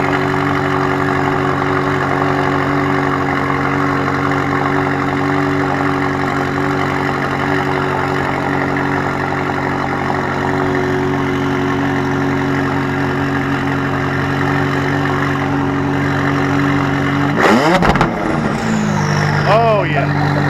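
A McLaren 570S sits at a high, rough idle close by, holding a steady throbbing drone under people talking, then swells briefly near the end as another engine sound rises.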